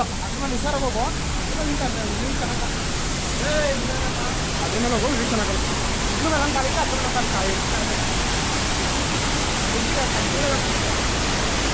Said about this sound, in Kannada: ಡೈಮಂಡ್ ಫಾಲ್ಸ್ ನೀರು ಸಿಕ್ಕಾಪಟ್ಟೆ ಗಲೀಜು